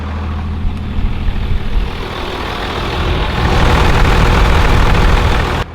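A turbocharged truck engine fitted with a Diamond Eye exhaust, a loud deep rumbling drone that builds into a stronger roar with turbo hiss partway through, heard close and steady with no talk.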